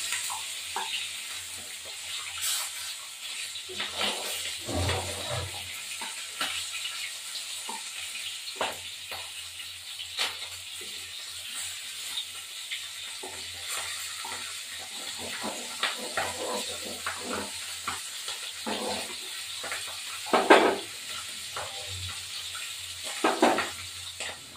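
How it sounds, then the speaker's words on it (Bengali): Fish fries in oil with a continuous hissing sizzle and scattered sharp crackles and spatters, plus a couple of louder clinks near the end. "এবার মাছগুলো ভাজা হয়ে গেছে, তুলে ফেললাম।"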